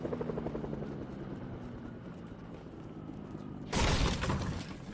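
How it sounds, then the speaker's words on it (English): A video game helicopter's rotor thrums steadily at close range in Fortnite, then a sudden loud burst of noise crashes in near the end. "Helicopter coming in."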